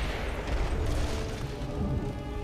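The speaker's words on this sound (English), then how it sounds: "Candy explosion." A candy explosion attack from the video game Costume Quest goes off as a dense, rumbling boom with crackling bursts that fill the whole stretch without pause.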